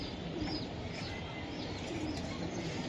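A big gangchil pigeon coos faintly in a low, continuous burble, with light chirps and a hint of wing movement, quiet and without speech.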